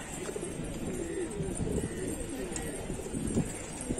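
Domestic pigeons, including a newly fledging bird with a collar, coo softly and repeatedly in a loft, the low murmuring calls overlapping against steady background noise.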